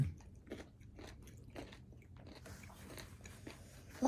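Someone bites and chews crunchy sour fruit close to the mic, a string of quiet crisp crunches spaced about every half second, then softer wet chewing over a faint background murmur.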